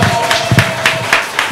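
An audience at a children's home visit claps for Her Excellency, a short burst of loud, close, irregular hand claps with a few distinct slaps over about a second and a half.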